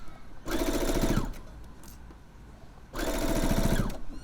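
A sewing machine runs in two steady bursts of rapid stitching through tote bag fabric, close up, separated by a short pause with faint handling noise.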